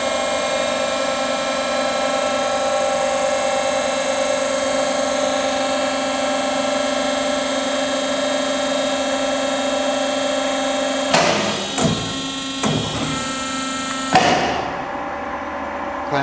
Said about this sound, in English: step on the pedal again to initiate the second bend. This will be a 90 degree bend.